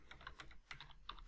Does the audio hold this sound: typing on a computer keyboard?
yes